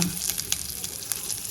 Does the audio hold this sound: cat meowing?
no